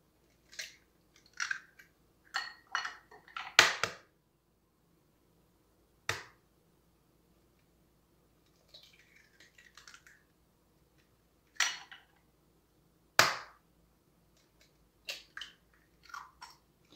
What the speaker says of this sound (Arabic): صافي غادي ندوز نهرس اربعه البيضات اللي راح مثلا يكونوا غاسلينهم من قبل